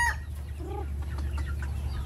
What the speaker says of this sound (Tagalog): Hagisan mo konting patuka para makita yung dami ng ano, ng manok.